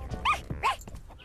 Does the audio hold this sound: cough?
no